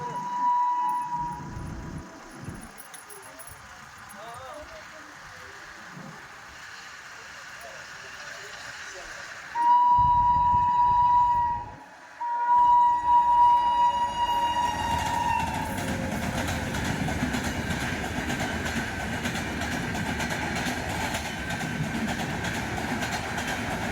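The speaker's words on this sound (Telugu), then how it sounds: "ఇప్పుడు చూడండి ట్రైన్ ముందుకు వచ్చేసింది." A passenger train with AC coaches arriving at the Surareddy Palem railway crossing in the evening: a loud horn blast, another horn, then a steady rolling rumble and clatter of wagons passing close by, with people talking nearby early on.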